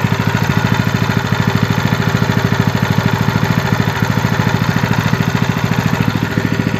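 A LIFAN KP230 8 hp engine with a 20 mm shaft idles steadily, its rapid even firing pulses chugging close by and alone.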